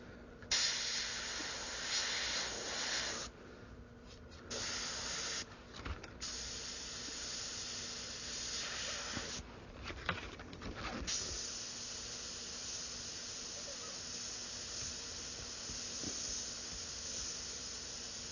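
Airbrush fogging paint onto a skull design with loose masking, heard as a soft, steady hiss that starts and stops in several bursts over a faint background.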